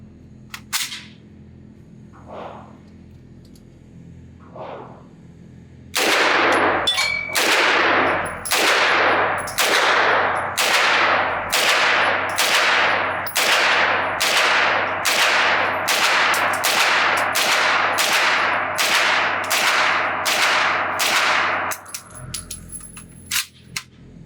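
Twenty shots from a TPM Outfitters MP5-N roller-delayed rifle crack out at a steady, even pace, each loud report ringing briefly before the next, after a few quiet handling clicks.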